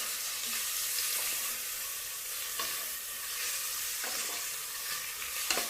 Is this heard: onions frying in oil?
yes